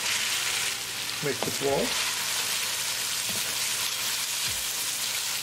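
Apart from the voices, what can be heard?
onions frying with garlic in a pan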